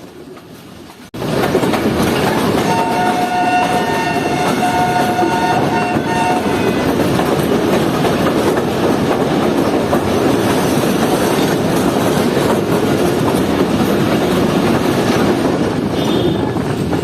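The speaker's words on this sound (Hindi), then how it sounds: "हमारी ट्रेन इस वक्त कुछ ही देर में पहुंचने वाली थी शादरा बाग जंक्शन रेलवे स्टेशन पर" Pakistani Shah Hussain Express passenger train rolls along the main line toward Shahdara Bagh Junction near Lahore, a loud steady rumble of wheels on rails with rhythmic clatter and brief high squealing tones, recorded from aboard.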